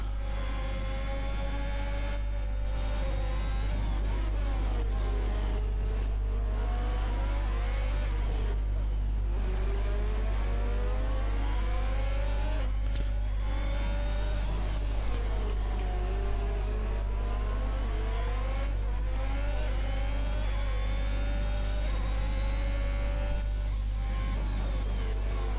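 Race cars in a sim racing game at the Brazil circuit, engine notes rising and falling in repeated sweeping acceleration runs over a constant low hum, steady and moderately loud throughout.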